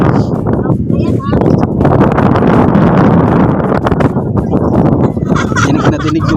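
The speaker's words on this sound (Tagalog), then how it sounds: "Dinig na dinig yung hangin, oh. Napakalakas." Loud wind buffets the microphone in a constant roaring rumble, with people talking underneath.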